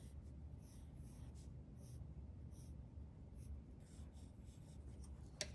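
Pencil lettering the word brownies on paper for an illustrated recipe title, a soft continuous scratchy scraping of graphite close up and quiet, ending with a couple of sharper taps.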